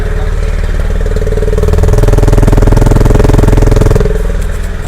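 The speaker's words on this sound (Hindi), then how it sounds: "तो अब हम लोग आपको सुना देते हैं इसके एग्जॉस्ट का साउंड।" A Honda CB 350 motorcycle idles just after starting, its exhaust giving a loud, steady, close-up thumping beat that swells slightly midway and then settles, with no talk.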